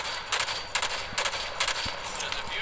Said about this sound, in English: So I'm going with the SMG with the kinetic bolts.